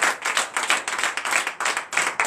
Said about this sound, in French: Donnez encore l'acclamation.